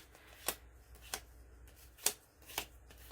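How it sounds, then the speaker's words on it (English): Vintage Hollie Hobbie playing cards handled alone, giving four crisp, separate card snaps and flicks at irregular intervals over a quiet background. "these are genuine Hollie Hobbie playing cards"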